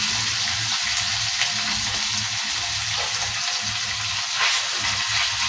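Ginger paste spreads over hot oil in a pan while fish curry with cauliflower and potato is cooked, producing an even, dense sizzle that stays loud and close throughout, with no voices.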